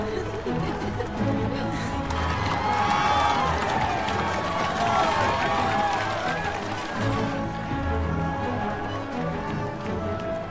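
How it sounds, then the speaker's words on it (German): A large jubilant crowd of Prussians cheers and shouts in welcome, a dense steady roar of many voices with rhythmic hoof-like clatter beneath, loud and continuous throughout. "Und dann dieser Jubel"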